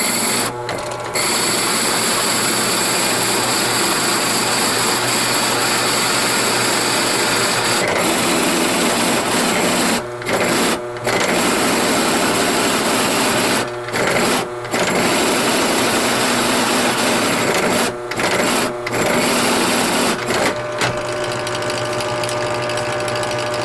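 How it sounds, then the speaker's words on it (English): A drill press fitted with a pilot bit runs loudly and steadily, a harsh buzzing whine with a low hum beneath, briefly cutting out several times as the feed stops and restarts. "I'm going to drill this out a little bit right here"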